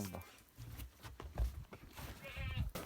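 Goats on a farm, with bleats breaking through amid close French conversation and general farmyard noise, the animal calls short and intermittent.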